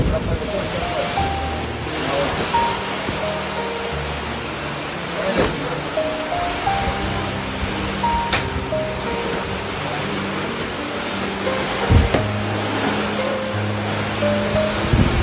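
Strong typhoon wind roars in a dense, continuous rush with gusty swells, loud and close, while people talk faintly underneath.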